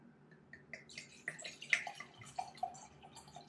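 Grapefruit mead glugs and splashes as it is poured from a very full, chilled bottle into a glass, a close, gurgling liquid pour lasting a few seconds with no talking.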